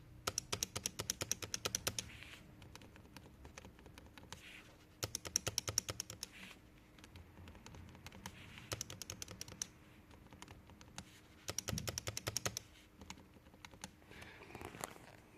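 Razer optical keyboard switch keys pressed in quick bursts, first an unrepaired key and then a repaired one, giving sharp rapid clicks in clusters separated by short pauses, close and fairly quiet with no talk.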